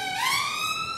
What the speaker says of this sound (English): Wait for the sirens to go back.